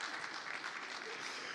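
Audience at a tech startup pitch night applauding a sponsor, a dense, steady wash of many hands clapping at moderate distance with no pauses.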